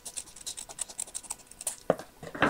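Scissors snip a paper picture cut out for a journal spread, heard close as a quick run of crisp cutting clicks followed by a couple of louder paper rustles.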